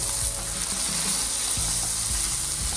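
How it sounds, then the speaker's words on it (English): Pork tenderloin browns in a hot pan with a loud, steady sizzling hiss, close up, with occasional scraping or stirring knocks and no voices. "add your filet mignon or pork tenderloin, and we're going to roast them nicely brown"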